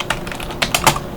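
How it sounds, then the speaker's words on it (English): Several quick keystrokes on a computer keyboard while typing the gpupdate command at a Windows machine, a sparse patter of clicks with short gaps and a firmer cluster near the end, close and clear with no talk. "I will then press Start R and type in"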